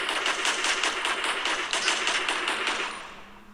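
Rapid rifle fire rattles out in a dense, loud burst of shots that runs for about three seconds before tapering off.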